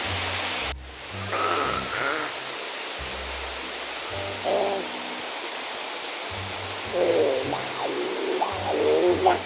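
A waterfall in Japan, in a snowy mountain setting, gives off a steady broadband rush throughout, with faint bird-like chirps and other small sounds over the constant roar.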